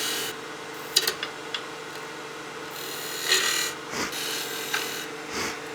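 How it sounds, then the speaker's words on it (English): A skew chisel cuts wood spinning on a lathe, a steady close rasping hiss over the motor's hum, with brief scraping bursts and light taps as the edge touches the spindle. "I'm just using the skew to lay out some areas we can start doing some half beads"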